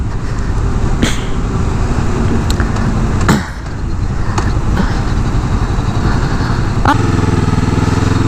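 A 2017 Kawasaki Vulcan S cruiser engine runs loud and steady while riding, a low throbbing drone with a few brief clicks and a short dip in level partway through, no talk.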